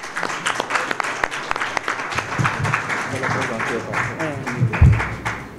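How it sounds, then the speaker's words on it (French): Applause for a prize winner at a media award ceremony, scattered claps building into steady clapping while a voice talks over it. "Si on peut l'applaudir"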